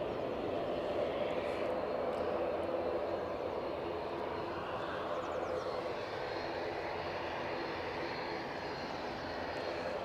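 An Air Canada airliner passes by at Edinburgh, a faint, distant, steady engine rumble that slowly eases off, heard on its own.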